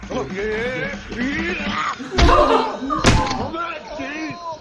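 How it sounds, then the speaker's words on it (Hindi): A door being broken down in a Hindi comedy film scene: two heavy slamming thuds over loud, continuous shouting voices. "मैं ये दरवाजा तोड़ दूंगा।"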